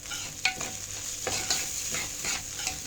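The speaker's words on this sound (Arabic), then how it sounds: "هنقلبه بس كده شويه، وهنضيف معلقه كركم ومعلقه كاري" Rice fries in a pan with turmeric and curry powder, a steady sizzle broken by several scraping, clinking stirs of a spoon against the pan.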